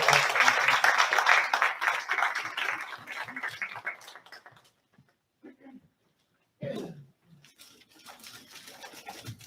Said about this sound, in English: So can we just give a round of applause to this?